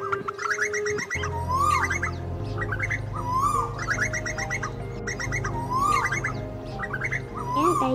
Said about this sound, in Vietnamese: Đây chỉ là một đoạn ngắn trong tiếng chim chuẩn đầy đủ và cập nhật mới nhất để đi bẫy